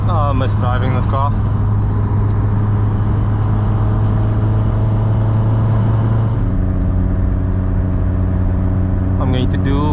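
A VW Golf Mk2 16V GTI engine drones steadily from inside the cabin on a test drive, with the tone dropping at a gear change late on and a voice heard briefly at the start.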